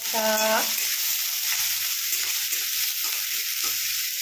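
Cumin, green chili and onion frying in oil in a pan before noodles are added, a steady close sizzle with repeated stirring strokes and a short tonal beep near the start.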